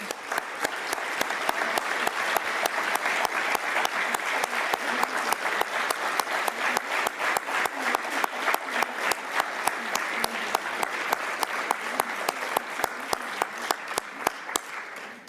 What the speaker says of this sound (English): Let's give them once again a big round of applause.